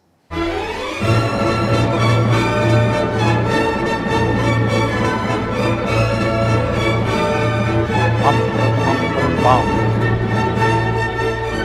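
A full orchestra plays steadily, a repeating short-long rhythmic figure pulsing through low brass, timpani and strings, sustained and loud throughout.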